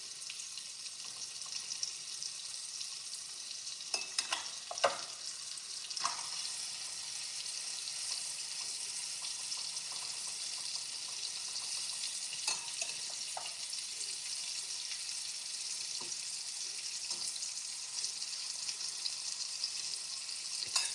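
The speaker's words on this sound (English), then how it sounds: "So just making sure to separate the fish so that everything can cook nicely." Fish frying in a pot of hot oil, a steady close hiss and crackle that runs throughout, broken by occasional soft knocks as pieces are separated.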